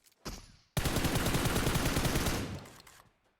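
Rapid automatic gunfire in PUBG Mobile, fired in a field near a tree: a short burst, a brief gap, then a long, loud, dense stream of shots lasting about two seconds before trailing off.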